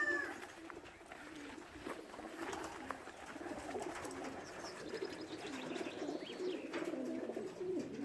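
Pigeon cooing at a racing pigeon loft as a bird returns from a 152 km race, soft repeated coos over steady outdoor background noise with faint chirps, moderately distant.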